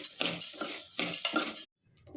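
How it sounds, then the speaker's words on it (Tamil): Washed grains dry roasting in a kadai, stirred in quick rhythmic strokes that make gritty scraping rustles, several bursts close up, then a short pause. "இப்போ கழுவுன இந்த தானியங்களை இதில் போட்டுடலாம். போட்டுட்டு நல்லா வறுத்து எடுத்துருவோம்."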